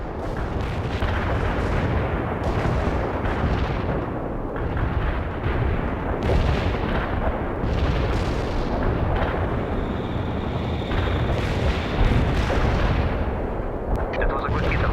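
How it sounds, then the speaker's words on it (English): In the World in Conflict video game, an artillery barrage pounds away as a dense, continuous roll of heavy booms and blasts. Overlapping impacts rumble loud and close throughout. "Artillery strike. Coordinates confirmed."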